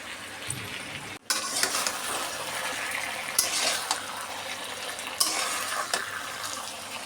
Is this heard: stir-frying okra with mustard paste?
yes